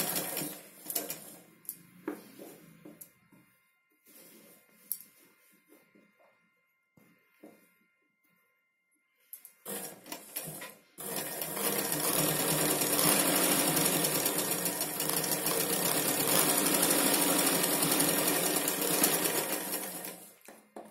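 A sewing machine stitches the side seams of Punjabi dress pants, first in short, broken bursts with pauses, then running loud and continuous at close range for the last half.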